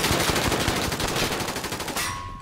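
Video game gunfire, a dense rapid burst of shots rattling loud and close for about two seconds before cutting off into a short ringing tone.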